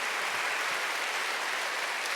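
Congregation applauding during a Sunday church service, a brief dense wash of clapping heard on its own at moderate level.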